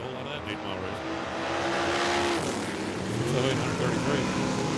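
Dragster engine roaring at Tucson Dragway, held on a throttle stop during an eighth-mile drag race: a loud, sustained track-side drone that swells midway, with an announcer talking over it.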